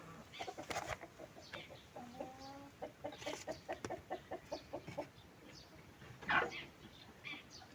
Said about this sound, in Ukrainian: Друга курочка.